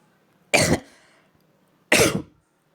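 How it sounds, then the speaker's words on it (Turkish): Two sharp, close coughs about a second and a half apart, each a short harsh burst, with quiet between them. "Ay üstüme öksürdü."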